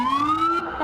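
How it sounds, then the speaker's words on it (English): Emergency vehicle sirens wail steadily with a slowly rising pitch as they pass close by at the start of a winter carnival parade. "That's the sweet sound of the beginning of the parade when you got those sirens going on by."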